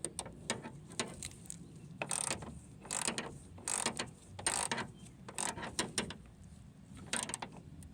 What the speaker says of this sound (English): Now I'm going to retighten this bolt.